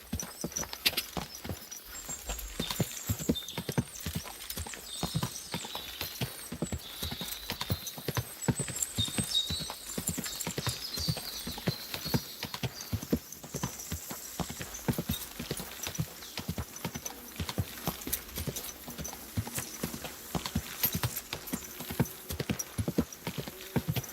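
In Kingdom Come Deliverance 2, a horse's hooves clip-clop in a fast, steady rhythm along the way toward the walled city of Kuttenberg. The hoofbeats are close and continuous, with faint ambient sound behind them and no speech.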